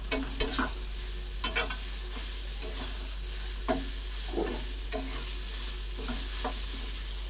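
A spatula scrapes and stirs grated potato mixture in a frying pan, giving repeated clinks and scrapes over a soft continuous sizzle, with no voices.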